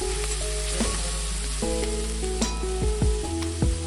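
A spice paste with salt and coriander powder fries steadily in a pan for a Bengali katla fish curry, a continuous close sizzle broken by repeated scraping strokes of a spoon.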